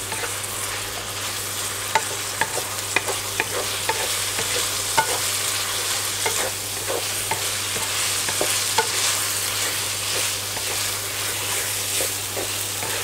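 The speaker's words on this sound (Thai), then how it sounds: "ผัดให้มันซึมเข้าไปในเนื้อวุ้นเส้นด้วยนะครับ" Glass noodles stir-fried with minced pork and holy basil in a hot pan, a constant hissing sizzle with light rhythmic scrapes and taps of the spatula, close and steady throughout.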